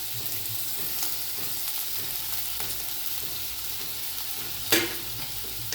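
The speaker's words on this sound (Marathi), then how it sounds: "तेलात छान असं परतून घेतलं" Ingredients for a paneer fry masala sauté in hot oil with a steady, crackling sizzle, faint stirring clicks scattered throughout and one sharp scrape of a utensil near the end, without talk.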